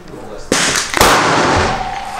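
Two sharp gunshot blasts from a Thompson Contender in 7mm International Rimmed, loaded with 28 grains of powder, crack about half a second apart, loud and close, and each is followed by a ringing, echoing tail.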